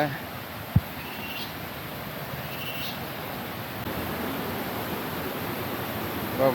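A private waterfall in Munnar runs full after two days of heavy rain, a constant broadband rush of falling water that holds steady throughout, with one sharp click near the start.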